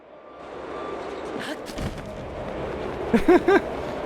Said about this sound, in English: I'll just poop a bomb and blow it up.